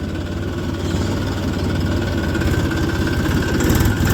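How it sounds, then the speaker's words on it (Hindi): A tractor engine runs steadily with a rotavator attached in a farm field, giving a continuous low, rumbling drone with a constant vibrating throb throughout and no speech. "चला देते हैं जी ट्रैक्टर, खेत में उतार लेते हैं फटाफट, रोटावेटर चला देते हैं"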